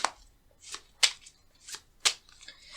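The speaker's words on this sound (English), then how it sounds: "I can even shuffle it like this." Rapid riffling bursts of playing cards being shuffled, several quick crisp flutters in a row, close and alone.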